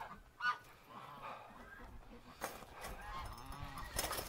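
Geese on a frosty farm in early spring honk intermittently in the distance, scattered calls over quiet outdoor background with occasional nearby footsteps and bumps.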